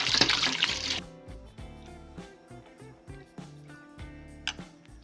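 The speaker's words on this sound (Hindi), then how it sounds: "अब इसको एक छलनी में डालकर पानी छान लें और ऊपर से थोड़ा सा ठंडा पानी डाल दें।" Cold water is poured over cooked tapioca pearls in a sieve: a loud, brief rush of pouring for about a second, then softer clinks, trickles and drips as the pearls drain.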